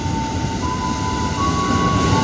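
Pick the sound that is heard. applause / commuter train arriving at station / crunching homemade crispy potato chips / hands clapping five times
commuter train arriving at station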